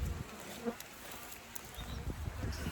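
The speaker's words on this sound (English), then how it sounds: "Show you some bees en route." Bees buzzing faintly outdoors at an apiary in a flood plain in early spring, a soft steady drone with low rumbling wind and handling noise underneath.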